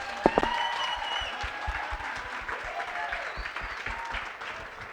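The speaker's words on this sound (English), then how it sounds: "Can you please just give a round of applause to Promaths" Applause from guests at a gala dinner for the Promaths Wits and UJ chapters, steady clapping with scattered louder claps and whoops, some nearby voices and chatter mixed in.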